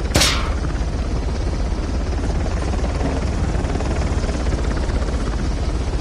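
A helicopter in the video game Uncharted thumps steadily with a loud, continuous rotor chop and engine drone, after a brief sharp burst at the start.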